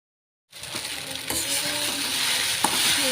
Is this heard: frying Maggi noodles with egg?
yes